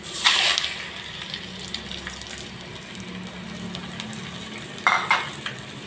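Squid goes into a simmering pot with ginger, giving a couple of sharp splashy bursts and soft stirring scrapes over a low bubbling hiss, close by with no voices.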